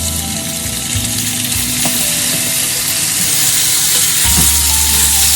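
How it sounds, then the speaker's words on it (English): Sliced pork pan-fries in hot oil over medium-high heat with a loud, steady sizzle close up, broken by a few light stirring scrapes. "Step 3 is to pan fry the pork."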